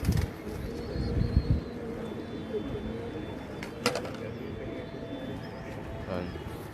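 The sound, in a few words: champion pigeon cooing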